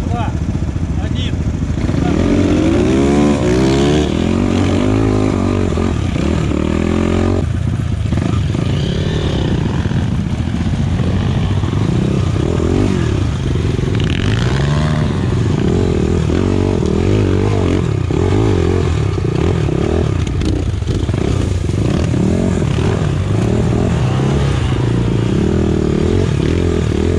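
A field of enduro motorcycles snarls off the start line at an enduro-cross race, engines revving and droning loud and continuous with clattering, while someone talks over the racket throughout.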